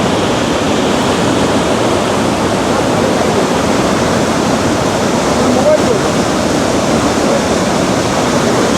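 Bhatinda waterfall near Dhanbad in Jharkhand roars as a loud, constant, close wash of falling water, with people talking faintly beneath it.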